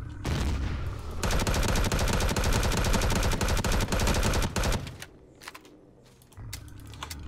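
Dense automatic gunfire from a pulse rifle in the sci-fi survival game Empyrion Galactic Survival, a rapid rattling burst for about four seconds that cuts off, followed by quieter scattered shots and game ambience.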